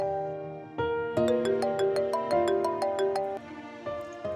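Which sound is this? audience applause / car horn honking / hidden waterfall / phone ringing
phone ringing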